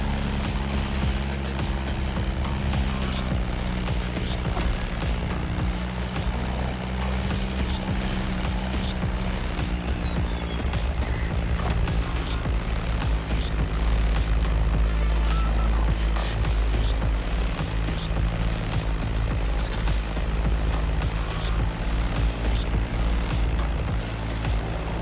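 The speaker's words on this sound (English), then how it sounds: "That Beechcraft Stagger Wing is truly a beautiful piece, isn't it? And a great choice for that flight." A Beechcraft Staggerwing propeller biplane in The Crew Motorfest drones steadily in flight, a loud continuous engine and propeller hum with a heavy low rumble that holds for the whole stretch without talk.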